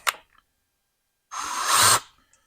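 A handheld power tool working on engine valves during a big bore kit and cam upgrade gives a short faint tap, then whirs at low speed for about a second before stopping.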